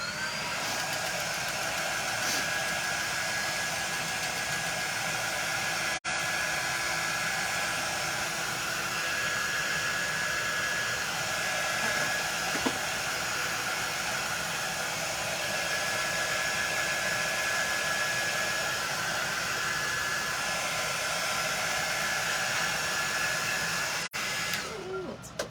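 A hair dryer blows steadily on a botanical craft piece, a loud continuous whir with a thin high whine that runs almost unbroken for the whole stretch, briefly cut twice.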